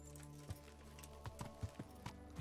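In the video game Kingdom Come, a horse's hooves clip-clop in a short run of soft, evenly spaced steps over a steady background drone, close and quiet.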